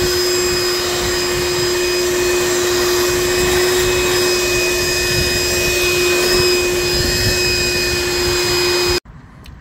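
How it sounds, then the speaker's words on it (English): Vacuum cleaner sucking up metal drill shavings aboard a sailboat, a loud steady whine with a constant high tone running nearly ten seconds before cutting off abruptly. "And then quickly vacuum up them shavings."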